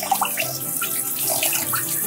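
Water is dumped out of a pot while rinsing soaked corn for chicken pozole, a short gurgling, splashing pour with a few drips, heard close and alone.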